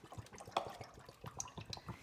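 Liquid trickles and splashes in soft, uneven bursts, like water being poured into a cup nearby.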